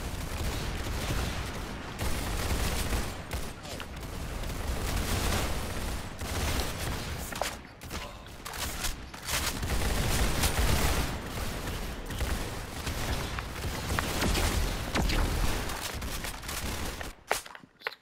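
Dense, sustained gunfire from a Roblox shooting game, a busy crackle of many shots that runs loud and steady for nearly the whole stretch with only brief dips.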